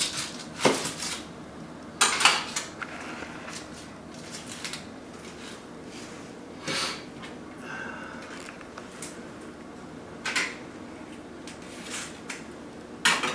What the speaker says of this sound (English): I just cut the ends off the onion so I can peel them easier